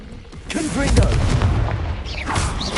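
Fiery blast of the Confringo spell in Hogwarts Legacy, a loud booming burst that rolls on with crackling debris over about three seconds amid other spell effects.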